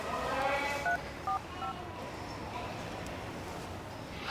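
A mobile phone keypad dials an emergency number, giving a handful of short, separate beep tones early on, quiet and close against a soft, noisy background that carries on after the dialing stops.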